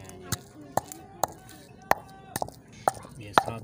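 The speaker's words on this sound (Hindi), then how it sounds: "अभी इसको कूटेंगे।" Peeled boiled potatoes are pounded with a green chili and salt, a series of about eight sharp, close thuds at an irregular, unhurried pace against a quiet background.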